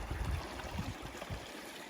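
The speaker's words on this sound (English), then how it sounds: "So this is the creek." A creek near Limekilns, Bathurst and Sofala in Australia flows steadily on a warm afternoon, a faint, continuous babbling wash at a little distance with no voices over it.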